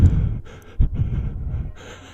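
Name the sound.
heavy breathing on the phone in a scary story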